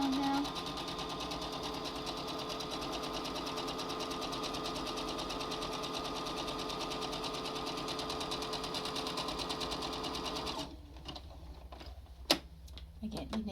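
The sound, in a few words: sewing machine zigzag stitching cloth face mask edges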